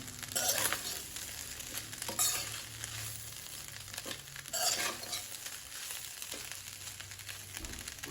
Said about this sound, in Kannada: ಈಗ ಅನ್ನ ಹಾಕ್ಕೊಂಡು ರುಚಿಗೆ ತಕ್ಕಷ್ಟು ಉಪ್ಪನ್ನು ಹಾಕ್ಕೊಳ್ತಾ ಇದ್ದೇನೆ ಈಗ ಇದನ್ನು ಸರಿಯಾಗಿ ಮಿಕ್ಸ್ ಮಾಡಿಕೊಳ್ಬೇಕು